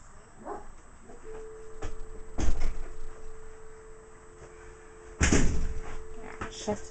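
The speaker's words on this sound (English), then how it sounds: "shut the door." An indoor door shuts with a sharp thud near the end, after an earlier knock or bump, over a steady tone and low room noise.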